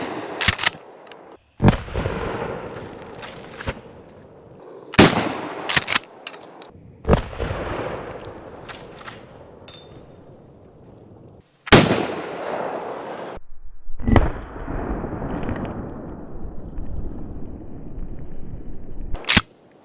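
A Mossberg 590A1 12-gauge pump shotgun fires target loads, buckshot and slugs outdoors at a range: several loud sharp blasts spaced seconds apart, each followed by a rumbling decay and metallic pump-action clatter between shots.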